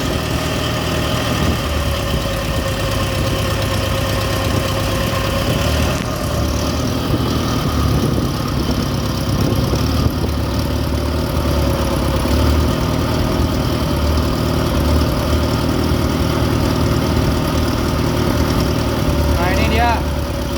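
A car engine idles steadily during a conventional charging system test, a continuous low hum that runs the whole way through, with faint talk in the background.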